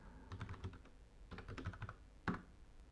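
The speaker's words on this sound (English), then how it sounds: "Oh god, I hate typing this out every time." Quiet bursts of typing on a computer keyboard, quick clusters of soft key clicks separated by short pauses, close but faint, with no talk.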